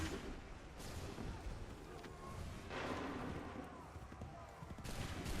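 Musket volleys in Assassin's Creed 3 battle: bursts of gunfire crackle at moderate distance, with two louder volleys around the middle and end under a steady battlefield din and shouted voices.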